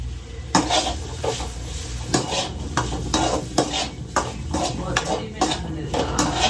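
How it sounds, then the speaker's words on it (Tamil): Okra sautéing in a pan at home, with a low sizzle under repeated, rhythmic scrapes and knocks of a spatula against the pan, about one every half second, and faint talk in the background. "காயும் வதங்கிட்டு இருக்கு"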